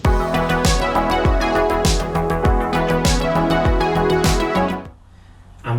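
Layered Prophet 6 synth parts, a smooth pad under a squelchy pluck lead line, play together over a driving beat with steady kicks, loud and full, before dropping away abruptly near the end.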